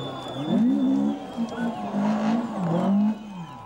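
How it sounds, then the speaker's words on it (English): A rally car slides through the Talsi streets during a tarmac stage, its engine note rising and falling in wavering sweeps as it revs through the corners, loud and close with steady road noise underneath. "Kilpis slides in the Talsi streets as well and makes a mistake at the same place as Aldis Pielans."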